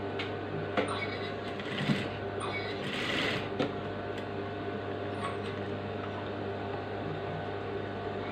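Sewing machine stitching a frock, a steady close whir of the motor with light ticking and a few brief clunks and rustles of handling cloth, with no talking.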